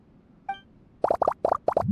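Ingredients plopping into a drink in the video game Genshin Impact: a single bright ping, then a quick run of five or six wet, close plops.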